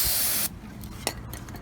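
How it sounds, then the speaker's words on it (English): Brake cleaner sprayed from an aerosol can onto a rear disc brake caliper bracket gives a loud, steady hiss for about half a second, then stops, leaving faint shop noise and a small clink. "spray it with some brake clean,"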